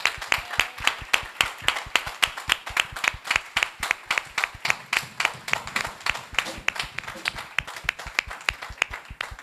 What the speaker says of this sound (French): Est-ce qu'on peut acclamer? Est-ce qu'on peut acclamer?